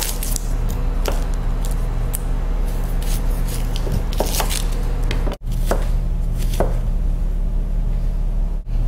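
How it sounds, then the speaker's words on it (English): Onion being chopped for mango salsa, a knife striking a cutting board in irregular taps against a steady background hum, close by with no talking. "Then we'll chop up the onion."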